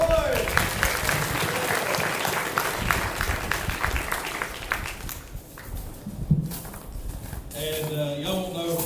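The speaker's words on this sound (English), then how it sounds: "we want to give them a round of applause" An audience at a cowboy camp Sunday gathering claps in sustained, dense applause for several seconds that thins out toward the end, followed by voices.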